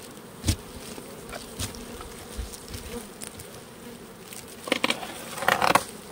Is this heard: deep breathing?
no